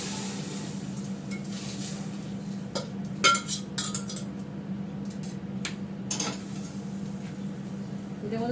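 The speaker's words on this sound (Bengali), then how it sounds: "এবার ফোড়নটা দিয়ে দিই।" Phoron, a spice tempering, dropped into hot oil in a pan: a steady close sizzle with scattered metallic clinks and scrapes of a utensil stirring against the pan.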